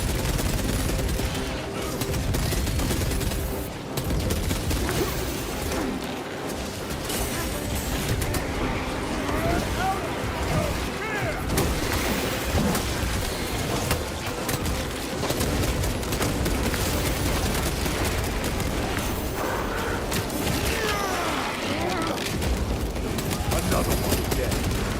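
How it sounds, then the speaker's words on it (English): Gunfire and a frag grenade blast in the Warhammer 40K: Space Marine 2 battle, with dense, continuous weapon fire and rumbling impacts filling the scene, mixed with game voices, loud and close throughout. "Using frag grenade."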